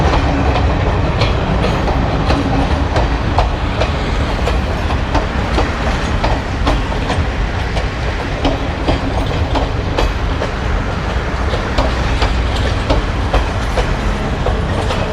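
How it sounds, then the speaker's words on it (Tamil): A Colombo local train on the Galle–Colombo line rolls past close by, a loud, continuous roar with rhythmic clickety-clack of wheels over rail joints throughout. "காலி கொழும்பு ட்ரெயினில் ஓடுற இந்த ட்ரெயின் தான்"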